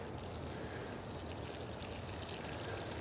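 Water poured steadily over freshly transplanted blackcurrant plants in a garden, a continuous close rushing splash like a stream, with no talk.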